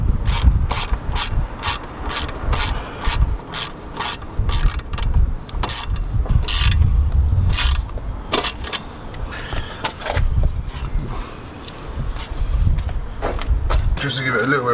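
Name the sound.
screwdriver tightening Ramair induction kit on Audi TTS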